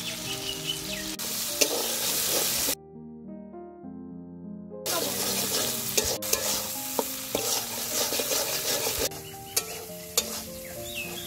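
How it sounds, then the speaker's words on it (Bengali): Spice paste of garlic, ginger, cumin and salt frying in a pan with steady stirring scrapes, a busy sizzling texture that briefly gives way to a musical tonal passage before the frying resumes, close and fairly loud. "মশলাটা ভালো করে কষে নিচ্ছি"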